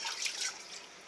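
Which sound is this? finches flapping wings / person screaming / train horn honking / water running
water running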